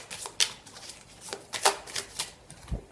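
Tarot cards being shuffled by hand in a series of short, crisp riffles and slaps. They sit close and moderately quiet, with no voice over them.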